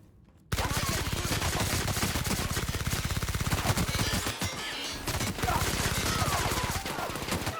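Automatic weapon fire in The Outer Worlds, a long, loud, rapid stream of shots that bursts in after a brief quiet, pauses once, then resumes, with a voice briefly audible under the shooting.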